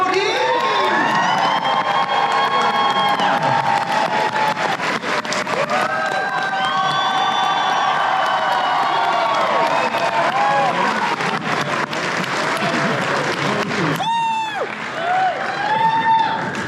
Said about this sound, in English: everybody, a huge round of applause